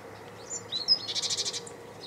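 A tit (mésange) calls outdoors, giving a few thin whistled notes and then a quick run of about eight evenly spaced bright chirps, fairly near against a low steady background hum.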